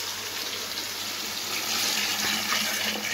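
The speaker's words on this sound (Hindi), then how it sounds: "अब हम इसमें ऐड करेंगे यखनी," Mutton stock (yakhni) is poured into a pot of pulao with fried peas and softened tomatoes, a steady close rushing splash of liquid that continues unbroken for several seconds and swells slightly near the end.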